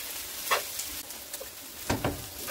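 Dried filefish strips stir-fried in gochujang sauce in a pan, a steady close sizzle with scattered scraping stirs and clacks of a utensil, no talking.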